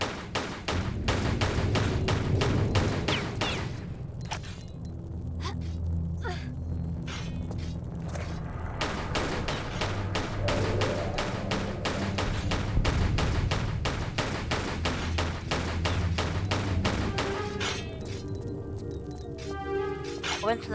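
Dense, rapid gunfire in a Tomb Raider custom level as scorpions are shot, long runs of evenly spaced loud shots with brief pauses, over a low rumbling game background and a narrating voice.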